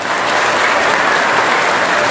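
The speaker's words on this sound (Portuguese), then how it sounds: "Um aplauso para Jesus" Loud, close applause rises from the congregation at a Folia de Reis celebration of the Santos Reis feast in a parish church. The clapping stays even and continuous for about two seconds.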